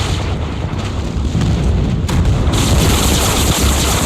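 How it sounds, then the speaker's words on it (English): Heavy airstrike explosions boom and rumble without letup in the mid lane of a Call of Duty Mobile match, loud, dense and sustained across the whole stretch with no voices. "they're putting an airstrike down the mid"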